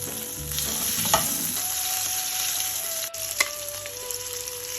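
Fish pieces fry in a pan for a Tellicherry-style fish molee, with a strong, continuous close-up sizzle, a few sharp crackles and brief stirring knocks, and no voices.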